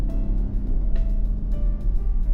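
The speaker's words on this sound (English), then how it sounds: "Listen to that engine." Car engine of a used Saab or Mercedes-Benz running with a steady low rumble close by, broad noise filling the low end with faint clicks over it and no talk.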